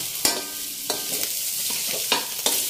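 Onion and garlic sauté in hot oil, a steady loud sizzle broken by several sharp spatula scrapes and stirs against the pan.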